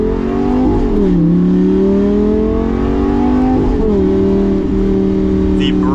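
A 2014 Lamborghini Gallardo LP550-2 with a mechanical single-clutch transmission drives along, its engine loud and close in a steady drone that dips and rises with throttle changes and shifts.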